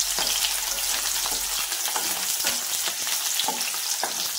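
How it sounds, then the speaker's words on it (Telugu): Thinly sliced onions and green chillies fry in oil in a kadai with a constant bright sizzle, punctuated by light spatula clicks and stirring, close and with no voices. "ఫస్ట్ కడాయిలో కొంచెం ఆయిల్ వేసుకొని సన్నగా కట్ చేసుకున్న ఉల్లిపాయలు, పచ్చిమిర్చి వేసుకొని బాగా ఫ్రై చేసుకోవాలి."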